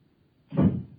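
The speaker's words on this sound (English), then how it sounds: "The front door." A front door in a radio drama swings and thuds shut once, a short muffled broadband bump after a half-second of quiet room tone.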